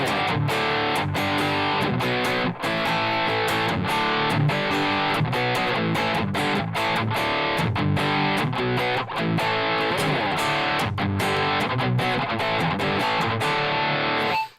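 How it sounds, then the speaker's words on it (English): Overdriven electric guitar played through a Headrush multi-effects unit, a dense, continuous distorted tone with chugging rhythmic chords at steady loudness, alone without voices. "It's just a distortion sound."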